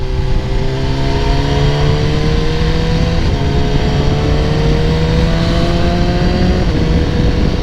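A BMW S1000R motorcycle pulls hard in fifth gear, its loud engine note rising smoothly and steadily over several seconds, with a brief dip partway through before it climbs again, with constant wind roar and no talk.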